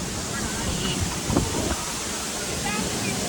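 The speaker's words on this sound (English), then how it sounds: "That waterfall is creating that wind. Because it's moving a lot of water really fast." Broad, steady roar of wind and rushing water at the foot of Looking Glass Falls in Pisgah National Forest, loud and close with wind buffeting the microphone, voices faintly mixed in.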